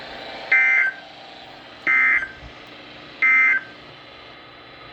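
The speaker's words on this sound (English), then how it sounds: "the National Weather Service has just activated the public warning alarm tone" A NOAA Weather Radio warning alarm test sends three short, sharp electronic tone bursts, evenly spaced about a second and a half apart over a faint broadcast hiss.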